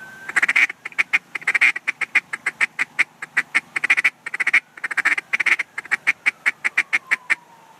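A duck call blown in short, choppy bursts to mimic real duck quacks, a rapid series of loud, close, nasal quacks in irregular clusters with brief pauses between groups.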